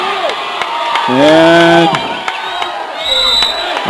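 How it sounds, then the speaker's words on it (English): The large Otis crowd at a Region 3 high school volleyball match against Idalia roars and cheers loudly, with shouts and whoops rising above the din, while an announcer talks over it. "that brings a roar from the large Otis crowd"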